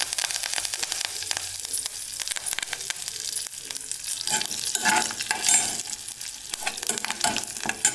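Curry leaves crackle and sizzle loudly in hot tempering oil in a pan, a dense continuous spitting hiss with sharp pops throughout.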